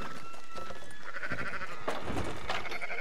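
Sheep bleating in Red Dead Redemption 2, several wavering calls from a nearby flock overlapping in short bursts, fairly close and clear with little else around.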